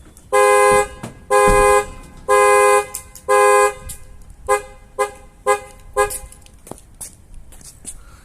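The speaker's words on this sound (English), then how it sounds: "someone's tried to pick the lock and the alarm is triggered" A Prestige X1 alarm on a 2015 Ford Transit van blares in loud, close bursts, four long blasts followed by a string of shorter rhythmic honks, with faint rattling between them.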